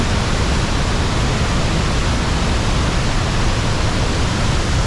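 Water rushing down from a mountain after rain and snowmelt, a loud, dense, unbroken roar that stays steady throughout, with no voices.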